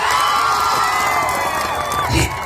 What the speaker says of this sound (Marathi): सांगतो जोरात टाळ्या हो द्या.